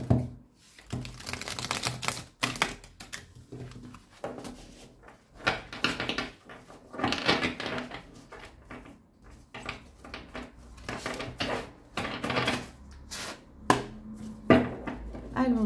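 Tarot cards being shuffled over a table: a long run of close, irregular papery riffles, slaps and taps rising and falling in bursts with brief pauses, with no speech heard.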